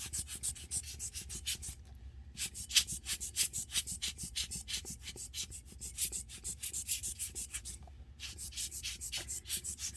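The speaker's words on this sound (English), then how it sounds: "I'm going to use the blower to kind of move it around" A small hand blower pushes alcohol ink across embossed vellum, giving soft, quiet, rhythmic puffs of air repeated steadily in quick pulses, with a couple of short pauses.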